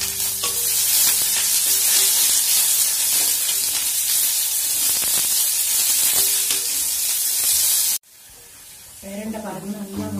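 Peeled pirandai (adamant creeper) fries in a pan with a loud, steady sizzle and occasional stirring for about eight seconds, then the sizzle cuts out and a quieter stretch with a brief tonal sound follows.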